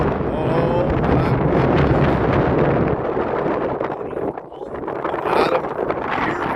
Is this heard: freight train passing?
no